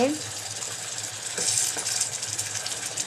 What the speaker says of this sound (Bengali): এই যে আমি নাড়ছি এখানে